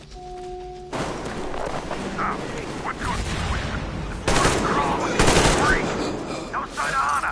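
Gunfire in the video game Metro Exodus, bursts of automatic shots and heavy booming reports arriving in clusters, loud and close, with voices shouting between and over the firing.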